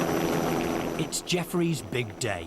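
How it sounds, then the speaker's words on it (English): A chartered helicopter's rotor thrums steadily in the background while someone speaks over it, the engine noise continuous and moderately near throughout. "he's chartered a helicopter to run him up the coast to Morecambe."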